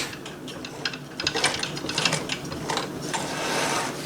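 Rapid mechanical clatter of a vintage Sears Kenmore 158 mini sewing machine running steadily, with brief surges in speed, close by and fairly quiet, no talking.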